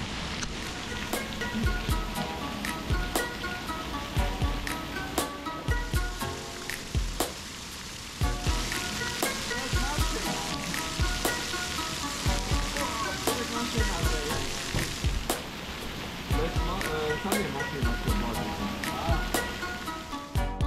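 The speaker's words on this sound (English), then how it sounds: "it wasn't long before the rain started pouring down" Heavy rain pouring down on a river trip, a dense, steady hiss of drops drumming on a roof and surfaces with sharp individual spatters, loud and continuous throughout with no talking.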